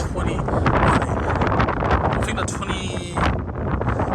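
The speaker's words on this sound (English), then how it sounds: "It's so windy" Strong gusts buffet the microphone in a constant rough roar outdoors beside a 2022 Bentley Continental GT V8, with a person talking under the wind noise.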